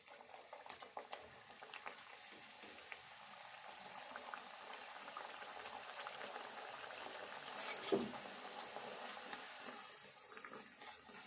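Sesame wheat-flour vadas (garelu) fry in hot oil with a soft, continuous bubbling and faint crackle, quiet overall, with a brief louder splash partway through.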